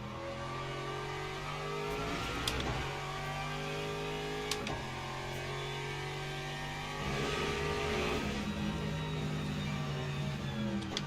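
A GTE race car engine in a racing game hums steadily at moderate revs on a gentle out lap at Sebring, with smooth gear changes and a few brief upshift clicks, fairly loud and alone.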